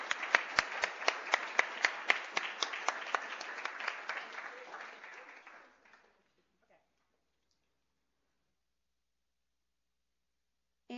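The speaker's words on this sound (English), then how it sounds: "if we could all give Jacqueline Steele a round of applause" A round of applause at a university internal medicine awards day: dense, lively clapping from an audience for about five seconds, then it stops abruptly and silence follows.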